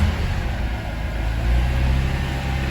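A Mazda RX8 rotary engine runs at a low, steady idle close by, a deep rumbling drone that swells slightly midway with no voices present.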